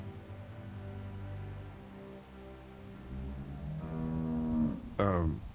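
A cow mooing in The Walking Dead game by Telltale Games, one long, low, drawn-out moo that swells and rises, followed by a short louder call, heard alone without talk.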